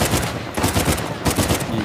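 Gunfire in the video game Uncharted comes as rapid, loud bursts of repeated shots, with short pauses between the volleys.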